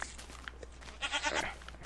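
A goat in the video game Minecraft gives a couple of short, faint bleats, quiet and alone, with a low background hum.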